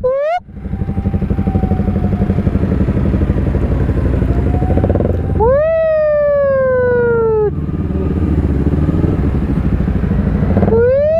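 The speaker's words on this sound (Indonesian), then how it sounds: "Ya geber terus Din, geber Din" Motorcycle engines idle and rev in a stalled Jakarta traffic jam while a loud siren wails in repeated rising and falling sweeps close by, drowning the low engine rumble.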